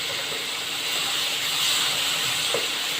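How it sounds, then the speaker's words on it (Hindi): Ginger garlic paste fries in a pan for urad dal, a constant close hiss and sizzle that holds steady throughout. "देखिए इसमें मैंने 1 चम्मच अदरक लहसुन का पेस्ट डाल दिया है। अब इसको हम अच्छे से भून"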